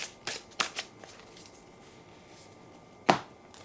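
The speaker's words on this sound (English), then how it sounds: "let's put more cards around this one" Tarot cards are handled and laid out during a reading, giving a few sharp, close riffling slaps and flicks with quiet gaps between, loudest near the start and once more toward the end.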